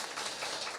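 Congregation applauding to welcome a returning member during a Sunday church service: a short burst of dense, steady clapping from many hands filling the room.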